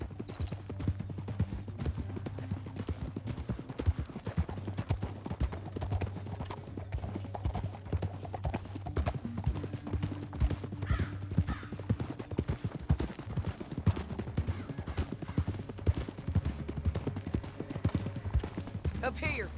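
Horses in the Red Dead Redemption II video game clip-clop along at pace, with rapid rhythmic hoofbeats over a low rumble, occasional whinnies and distant gunshots, while voices talk intermittently.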